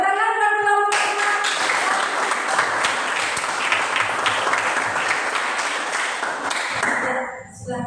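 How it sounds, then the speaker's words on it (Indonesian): A classroom group breaks into applause, dense clapping from many hands filling the room for several seconds before tapering off at the end, a teacher's voice briefly heard at the start. "Tepuk tangan buat kelompok 5"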